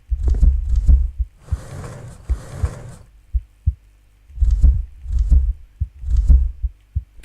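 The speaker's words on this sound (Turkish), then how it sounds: "Kalp sesi var lan." A loud, deep heartbeat in an indie horror video game thumps in a steady lub-dub rhythm, with pairs of heavy beats separated by short pauses.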